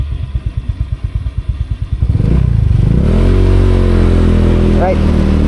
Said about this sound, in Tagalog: So pinapainit ko lang ng konti yung motor.